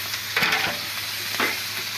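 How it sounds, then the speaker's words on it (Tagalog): Ground meat sizzles in a hot frying pan as it browns, with two brief scraping stirs over a steady low hiss, close and without talk. "Ang giniling guys, i-brown din natin guys bago natin ilagay ang gulay guys"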